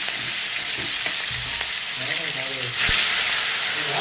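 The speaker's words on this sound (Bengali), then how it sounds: "আমি মাছটাকে ভেজে নেব" Fish frying in hot oil for a Bengali fish curry, a steady close sizzle and hiss that swells louder near the end as pieces hit or are turned in the pan.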